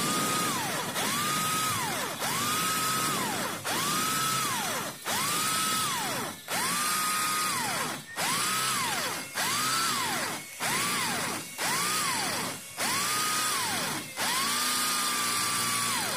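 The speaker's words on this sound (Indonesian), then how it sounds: "Kita akan coba bor lagi." Power drill fitted with a concrete masonry bit boring in repeated bursts, about a dozen loud whining runs that rise and fall with short pauses between, close and alone without talk.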